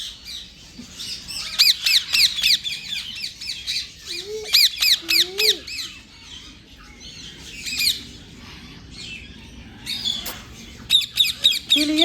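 Parrots at Vandalur Zoo give repeated loud, harsh squawks in close bursts. Shorter calls and lower notes mix in throughout, over a busy background.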